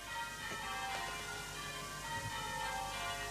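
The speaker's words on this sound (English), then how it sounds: "Ah, blessed bells." Church bells ringing in the distance in the English countryside at night, faint sustained tolling tones lingering over a quiet background.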